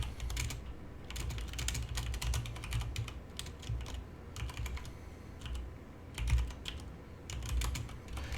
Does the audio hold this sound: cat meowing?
no